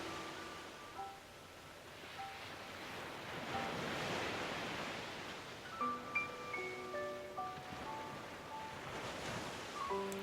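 Ocean waves wash in a slow, broad surge, swelling and receding, with faint tonal chimes drifting over the gentle, distant roar.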